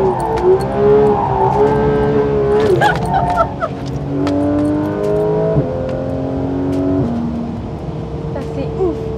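A Porsche GT3 RS engine revs hard on a race circuit, climbing through the gears with sharp upshifts and a loud, steady howl heard from inside the car while people talk over it.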